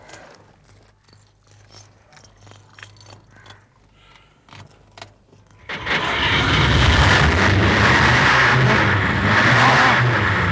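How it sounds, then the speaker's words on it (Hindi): A car with a burst silencer is started: keys jangle for several seconds, then the engine catches and roars loudly and steadily, a harsh broad rumble that fills the rest of the clip. "गाड़ी स्टार्ट करके देखते हैं कि कैसी आवाज आती है"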